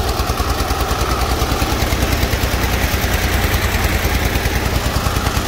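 A Fiat tractor's engine runs close by with a loud, fast, even chugging pulse that stays steady throughout, and no one speaks over it.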